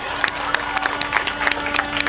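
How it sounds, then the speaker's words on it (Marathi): An audience claps at a school annual day celebration, a steady patter of many hands with occasional louder claps, moderately close, with some faint voices in the crowd. "टाळ्यांचा गजर होऊ द्या जोरात."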